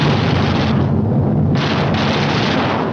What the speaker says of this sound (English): Each gunner flexes his sights and tries the coordinated fire controls with a few short